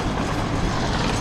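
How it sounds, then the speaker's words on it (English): Interior of a Kryvyi Rih metro train in Ukraine, a steady loud broadband rumble of the carriage running along the line, continuous with no talk. "Not by foot, but by the famous Kryvyi Rig Metro"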